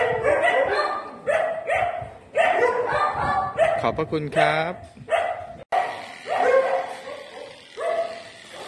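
Several dogs bark repeatedly at a foundation caring for stray and disabled dogs, a loud, close chorus of overlapping barks with a voice speaking between them.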